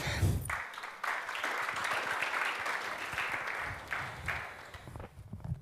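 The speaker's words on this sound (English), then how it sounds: "One more round of applause." Steady, dense applause from an audience, clapping continuously for several seconds before tapering off.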